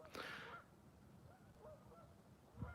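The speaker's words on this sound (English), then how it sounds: "that was a damn geese, man. You hear those geese?" Geese honk in the early morning dark at a night fishing spot, one loud nearby honk and then fainter, scattered calls farther off over quiet background.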